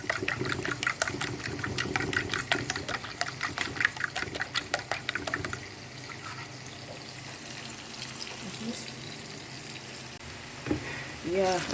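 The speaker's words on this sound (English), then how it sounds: "While the tomatoes is frying," Steady crackling sizzle from tomatoes frying in a pan, with a rhythmic scraping or stirring pattern in the first half before settling into continuous frying hiss.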